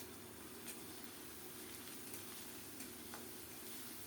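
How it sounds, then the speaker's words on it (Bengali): Ginger and cumin paste frying in a pan gives a faint, steady sizzle that holds evenly throughout, with no voices. "এই মশলাগুলো একটু কষিয়ে নেব যেন রসুন পেঁয়াজের কাঁচা গন্ধটা চলে যায়"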